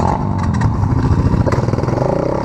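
A quad bike stuck in sand churns its engine with a steady, rough, throbbing drone and some rattling clatter, held at a fairly constant rev close by with no speech.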